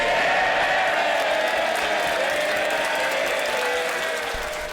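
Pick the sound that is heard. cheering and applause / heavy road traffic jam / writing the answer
cheering and applause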